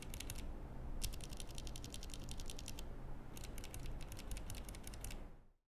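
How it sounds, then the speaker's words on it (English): Bursts of crisp, clicky keystrokes from a Keychron K3 mechanical keyboard, typed in quick rhythmic runs with short pauses between them over a steady low background hum, close and fairly loud. "both keyboards give me a really nice satisfying feel and a nice clicky sounds"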